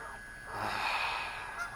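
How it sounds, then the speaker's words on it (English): A single honk from a goose, nasal and moderately distant, stands out over a faint background hiss. "You can hear these geese popping off."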